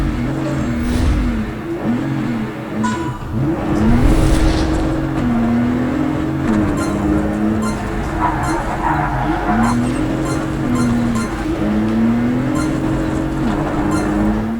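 A race car engine in the video game Project Cars 3 revs and shifts through gears steadily and loudly, pitch rising and falling with each gear change over a constant drone.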